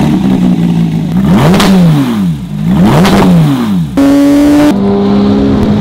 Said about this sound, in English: check out this cold start on the GT3